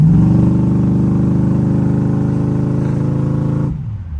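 A deep, rumbling G-body car's carbureted V8 with a vacuum secondary carb pulls steadily and loudly for several seconds, its tone rising slightly as the secondaries open before the throttle lifts and the roar drops off abruptly.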